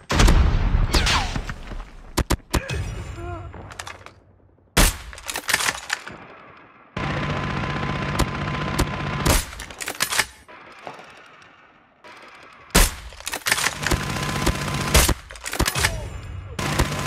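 Automated sentry gun in a first-person shooter video game rattling off repeated bursts of gunfire, loud and close, with brief pauses between volleys and no talking.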